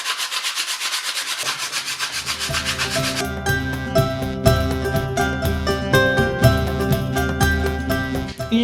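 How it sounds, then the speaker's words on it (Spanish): A wooden cup is sanded by hand with 80-grit sandpaper, a steady rhythmic back-and-forth rasp that starts alone and then continues loud and close under a layer of background music. "Terminamos con lija 80 que podemos pasar alrededor de un palo de escoba"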